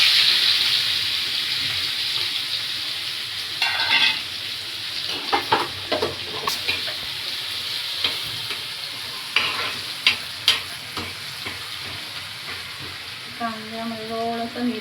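Onion frying in a pan after asafoetida goes in, with a steady sizzle and several bursts of stirring and scraping, a running tap or water splashing nearby toward the end.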